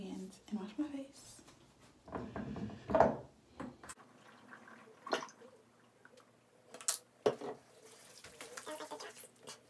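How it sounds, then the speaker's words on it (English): Tap water runs into a sink in short splashing bursts while hands and a face are washed with tea tree castile soap, close by, with quiet talk and handling noises around it. "So I'll wash my hands and wash my face."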